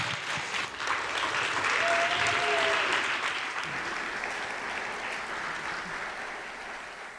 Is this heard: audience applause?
yes